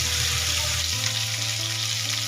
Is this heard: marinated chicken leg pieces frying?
yes